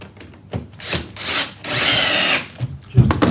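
A power drill drives screws into a wooden spice rack clamped over a sacrificial board, with short bursts of whirring followed by a longer sustained run of drilling, loud and close, with no talking.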